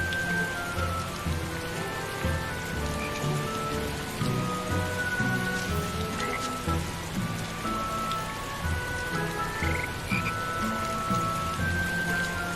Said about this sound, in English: I like the rain though.